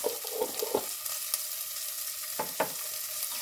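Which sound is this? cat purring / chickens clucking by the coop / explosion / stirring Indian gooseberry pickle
stirring Indian gooseberry pickle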